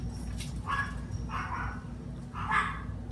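Dogs bark indoors in three short separate bursts, fairly close, over a low background hum.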